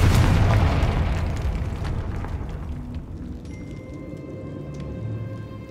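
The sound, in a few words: Confringo fire blast spell explosion from the video game Hogwarts Legacy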